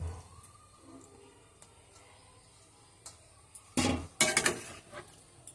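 A spoon stirs taro stalks through a spiced curry in a pot, with a few soft early taps followed by two sharp clattering scrapes against the pot near the end, in a quiet kitchen.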